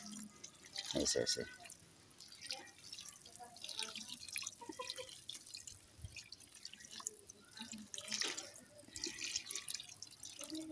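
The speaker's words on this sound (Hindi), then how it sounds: "ये बीज लगाने से पहले इसमें आप पानी डाल दें हल्का हल्का" Water poured lightly onto potting soil before coriander seeds are sown, heard as soft intermittent splashes and drips, close by, with someone speaking over it.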